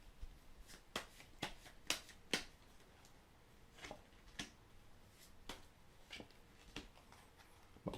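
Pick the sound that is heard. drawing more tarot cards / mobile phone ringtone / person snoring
drawing more tarot cards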